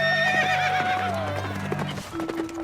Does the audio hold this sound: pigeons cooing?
no